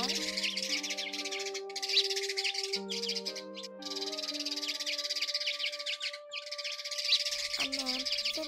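Recorded sparrow calls used as a bird-trap lure, covering several sparrow kinds, play as repeated sustained whistled tones and chirps, loud and close, with bright twittering over them.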